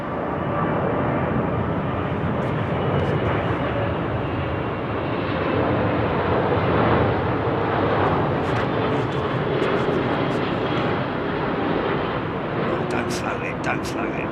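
An ex-KLM Boeing 747 Combi freighter comes in to land, its engines a broad, steady roar that stays loud and close throughout, with faint voices underneath and a few sharp clicks near the end.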